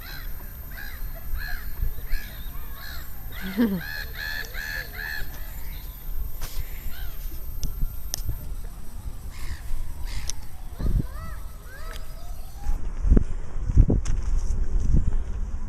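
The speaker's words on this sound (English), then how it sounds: "A beautiful bird." Crows cawing outdoors, a few harsh calls partway through over steady wind noise, fairly distant, with no talk.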